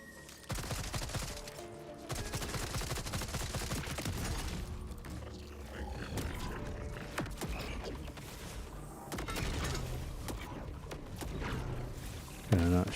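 Video game gunfire in Borderlands 4, dense rapid bursts and mechanical clatter throughout, fairly quiet in the mix.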